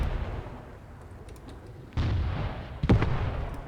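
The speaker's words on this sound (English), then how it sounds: "the mortars are landing in a nice spot" Mortar shells landing in the Graviteam Tactics: Mius war game: two heavy, booming impacts a second apart with a rumbling tail, over a low battlefield rumble with faint distant pops.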